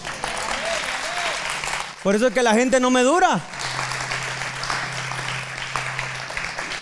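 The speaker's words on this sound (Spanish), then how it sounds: "Le damos un aplauso al Señor." A church congregation applauds during a pastor's sermon, producing a wash of clapping that is interrupted by a short stretch of loud, tonal vocalizing, then resumes under the preacher's continued speech.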